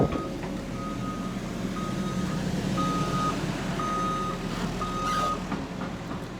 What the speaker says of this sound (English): Here is a excavator.